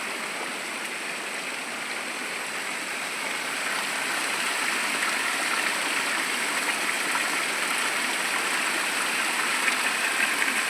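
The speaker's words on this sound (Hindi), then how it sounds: "प्राकृतिक स्रोत है पानी का।" Water pouring steadily from a natural village spring with two outflows side by side, a continuous close rushing gush that swells slightly partway and carries on alone.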